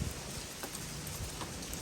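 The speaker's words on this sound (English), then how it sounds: "Is this rain?" Rain falls steadily in Atlanta, a dense, even hiss of drops with occasional faint patters, heard quietly and continuously with no voices.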